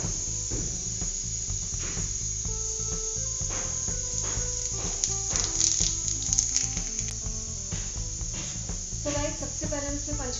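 Panch phoron spices sizzle steadily in hot oil in a kadhai, a dense crackling hiss with small pops running throughout at close range.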